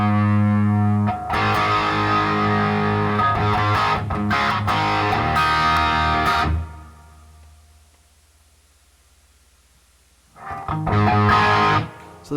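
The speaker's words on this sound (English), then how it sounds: "So there's the crunch channel." An electric guitar runs through the crunch channel of a Marshall DSL 40 CR amp, giving loud, crunchy distorted chords that ring for several seconds. The sound dies away into near silence, then a second short burst of chords follows.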